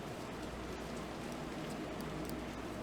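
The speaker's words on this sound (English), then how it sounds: "I don't know if the rain's coming over the microphone or not, but it's still pretty well much pouring out there." Heavy rain pouring down outside during a slow-moving storm, a steady dense hiss of drops with scattered louder patters, continuous and even throughout with no voices.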